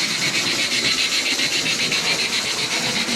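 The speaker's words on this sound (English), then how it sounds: "I suppose it sounds a little bit like a steam engine running." An OO gauge Mainline Scot model steam locomotive runs fast with its electronic steam sound unit, producing a loud, steady stream of rapid, evenly pulsing chuffs with no talk.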